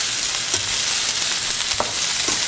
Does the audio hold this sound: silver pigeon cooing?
no